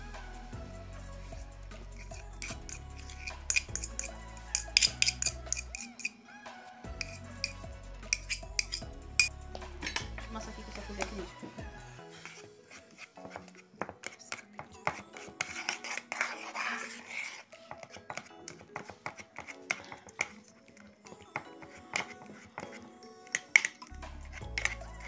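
A metal spoon scrapes and taps against cooked sweet potato and a dish, giving irregular close clinks and scrapes, some louder knocks, with quiet stretches between.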